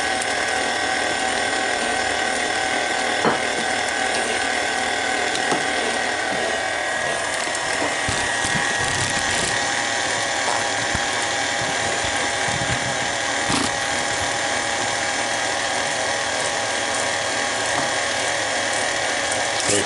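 An electric mixer whirs steadily, beating eggs into banana cake batter, with a continuous high mechanical drone and a few scraping knocks against the bowl throughout.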